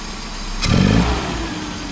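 A carburetor-converted SPI Mini Cooper engine idling, running very lean, then a quick throttle blip that briefly rises in pitch and falls back to idle, close by.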